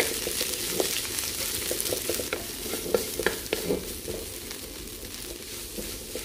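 Lemongrass, Thai ginger and red curry paste fry and sizzle in a pan for a pumpkin curry, with steady close frying and repeated scrapes and taps of stirring.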